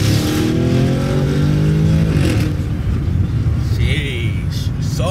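Sports car engine rumbling and revving close by, with popping exhaust burbles and crackles, a person talking over it throughout.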